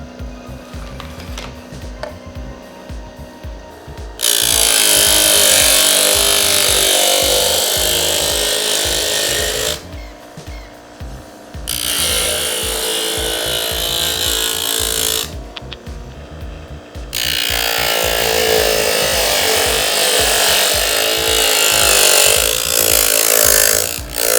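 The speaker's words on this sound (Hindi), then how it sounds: "उसके बाद कोई चीज़ इसके साथ लकड़ी की ग्राइंड करके देखते हैं" A homemade 12V DC sander built around a 775 motor grinds against wood in three long, loud rasping passes, with the motor whirring more lightly between them, close up.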